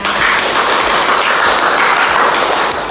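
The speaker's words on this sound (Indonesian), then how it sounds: "Tepuk tangan" Loud, steady applause from a classroom group after a teaching practice lesson, dense clapping filling the whole stretch with no talk.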